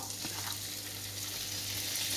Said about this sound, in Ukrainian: А далі першим ділом я буду смажити м'ясо.